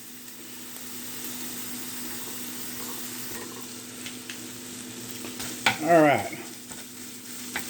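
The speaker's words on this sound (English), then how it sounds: "I just flipped this sausage over. And now I am trying to crumble it." Sausage sizzles steadily in a frying pan while being crumbled for nachos, a continuous close hiss that swells into a louder burst of scraping and spattering near the end; a voice speaks one short word.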